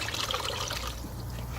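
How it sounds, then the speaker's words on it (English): Worm compost liquid trickling steadily from the tap of an IBC tote vermicompost bin, a close, constant watery dribble. "as soon as I turn this tap on, I collect all this wonderful worm juice"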